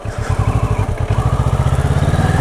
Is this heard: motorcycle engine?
yes